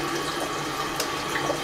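Water runs steadily from the hand-wash tap on top of a Japanese toilet tank after a flush, a loud, close, continuous splashing stream with no talking.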